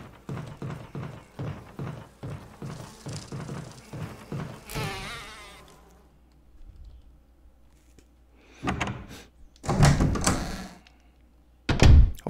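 Bees buzz in the Resident Evil HD Remaster game, a faint insect drone under a rhythmic series of thudding footsteps running down a hallway, followed by a few louder door thumps and bumps.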